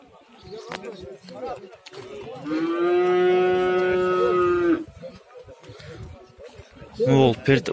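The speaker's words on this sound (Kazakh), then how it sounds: "Аябай чоң, желли чоң уй экен." A large cow lets out one long, loud, deep moo lasting about two seconds, set among livestock market bustle in Kurshab and nearby voices chattering.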